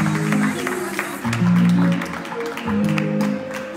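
An audience at an awards gala claps for an honoree, scattered applause under a low musical drone that swells and fades in waves.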